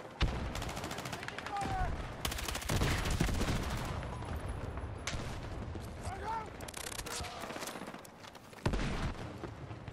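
M4 rifle gunfire in the Battlefield 6 video game, with bursts of rapid shots and other battlefield gunfire and explosions over dense game noise, fairly loud and near.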